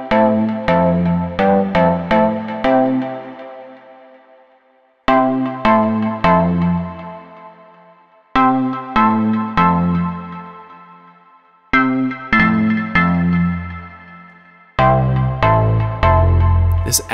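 Synth chords from Massive X, played in Maschine chord mode with changing inversions, arrive in several quick rhythmic bursts of repeated stabs separated by decaying gaps, loud and close, with a heavier bass-filled chord at the end.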